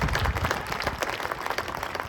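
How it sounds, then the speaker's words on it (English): Audience applause at a family and friends performance event at the University of Wyoming, a dense, steady wash of many hands clapping that carries through the whole stretch at even loudness. "Round of applause, thank"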